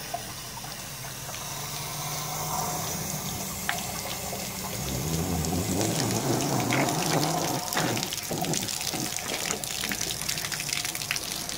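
Water gushes steadily through a hose as buildup is flushed from a water heater during anode maintenance in winter, a continuous close rushing with some spattering.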